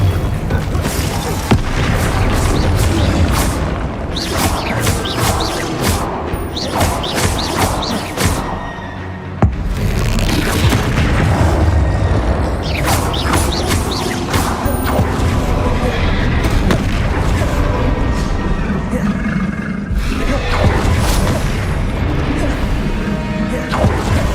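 Spell blasts and explosions in the video game Hogwarts Legacy come as dense, repeated crashing booms and bursts across a continuous, loud combat mix, with a voice calling out over the top.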